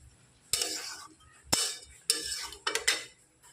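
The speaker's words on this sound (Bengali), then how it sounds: "আমরা জল দিয়ে এবার ঢাকা দিয়ে দিচ্ছি" A metal lid clanks onto a cooking pot with several sharp clinks and knocks, close by in a quiet kitchen. Some hits are single and one is a quick double rattle as the lid settles.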